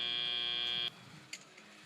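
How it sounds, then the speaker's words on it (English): At a FIRST robotics competition qualification match, the match-end buzzer blares loud and steady for just under a second, then cuts off, leaving faint arena noise with a few light knocks. "Raccoons beached on some fuel as the buzzer sounds"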